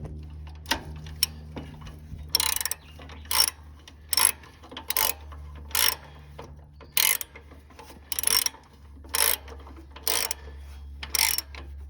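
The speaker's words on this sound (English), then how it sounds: "he'll get his wrench on there. Let's give this a couple turns and get her snug." A ratchet wrench snugs a bolt on a Cub Cadet engine during an engine swap, giving a series of short, sharp clicking bursts roughly once a second, close and distinct over a low steady hum.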